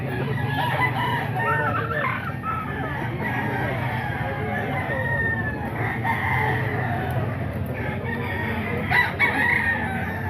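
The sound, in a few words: roosters crowing at a market stall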